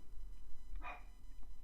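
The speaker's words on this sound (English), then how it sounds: "My dog is barking." A dog gives a single short bark a short way off, faint over a low steady indoor hum, with a fainter yip just after.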